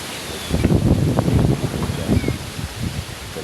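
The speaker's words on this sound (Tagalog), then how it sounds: "Ayun, humahampas na naman yung hangin." Strong typhoon wind buffets the microphone in heavy rumbling gusts, a roaring broadband rush that stays loud throughout.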